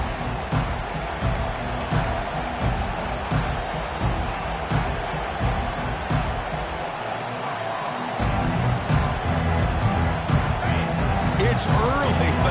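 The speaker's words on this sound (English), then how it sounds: "this crowd is fired up. Listen to this noise here." A college football stadium crowd roars in a dense, continuous wash of noise beneath a commentator's play-by-play, with a brief lull partway through before the din surges again.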